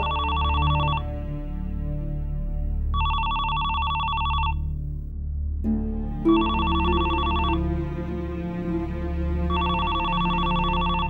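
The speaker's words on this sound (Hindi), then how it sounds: "फोन क्यों नहीं उठा रही हो?" A telephone rings indoors in repeated bursts of bright electronic trills with short pauses between, heard over low background music, with no voices.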